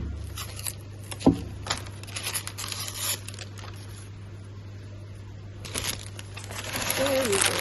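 Fine mesh packaging being unwrapped up close, with crinkling and tearing plastic, a sharp crackle early and rustling throughout over a steady hum, with a voice talking at points.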